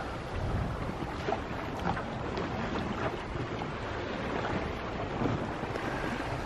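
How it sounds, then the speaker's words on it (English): Sailboat running straight downwind on Lake Ontario near Sackets Harbor, with steady rushing wind buffeting the microphone and a soft wash of water along the hull, no voices. "Really comfortable sailing pretty much straight downwind."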